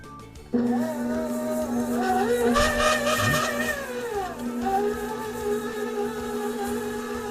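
A stand mixer beating butter for chocolate chip cookies switches on abruptly and runs with a loud, steady motor whine that wavers in pitch as the paddle works, with no talking.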